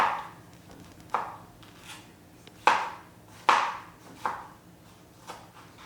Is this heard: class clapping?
no